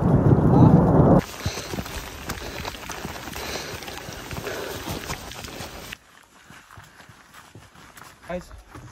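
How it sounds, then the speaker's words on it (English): Rain and hail on Rock Island Lake in the Absaroka-Beartooth Wilderness in August: a loud hissing burst, then a steady rough patter that drops to a quieter, scattered fall near the end, with a voice briefly present. "There's the rain. Oh, there's some hail too."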